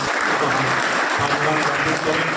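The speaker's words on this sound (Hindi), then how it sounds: "आपसे ये गुजारिश करूँगा कि जोरदार तालियां बजाकर" At a sweater distribution event held at a school, a crowd claps loudly and continuously, with a low murmur of voices and some talk underneath the dense applause.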